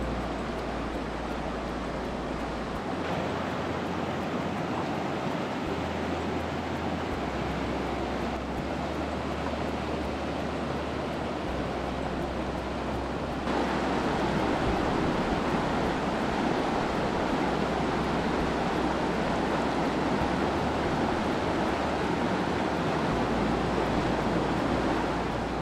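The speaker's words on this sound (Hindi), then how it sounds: "जैसे ये पानी का शोर है, ये शोर ट्रैफिक के शोर से 1000 गुना बेहतर है।" Rushing river water in Kashmir's Neelum Valley makes a constant, broad roar, close and steady throughout and growing slightly fuller partway through, with no voices.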